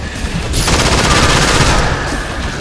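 SCAR rifle on full auto in Killing Floor, a sustained loud burst of rapid gunfire with a short lead-in that runs unbroken for about two seconds, no voices over it.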